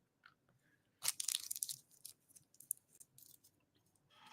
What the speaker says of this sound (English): I also love chewing Hubble Bubble watermelon strawberry